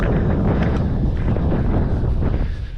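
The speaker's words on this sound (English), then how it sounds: "It is extremely windy on the top of this hill" Strong, steady wind buffeting the microphone on a hilltop during sheep handling, a continuous low roar with gusty swells that eases slightly near the end.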